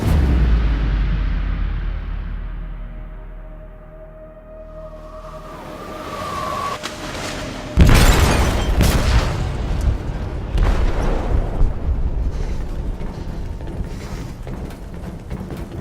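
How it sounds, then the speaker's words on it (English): A detonation in a ship's hold in Detroit: Become Human: a low mechanical hum and rumble build, then a sudden loud blast, followed by lingering rumbling, metallic groans and debris. "They detonated an explosive in the hold."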